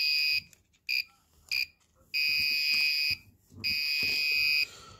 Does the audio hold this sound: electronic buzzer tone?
yes